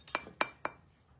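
Three sharp, bright clinks of a glass ornament spaced about a quarter second apart, close and moderately loud against a quiet room, with no talking.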